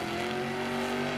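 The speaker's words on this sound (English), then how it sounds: "you can hear that motor and the transmission just working" The Megalodon monster truck's engine and transmission labour through a muddy Monster Jam freestyle in Jacksonville, a loud sustained droning engine note held steady over a brief moment, no talk.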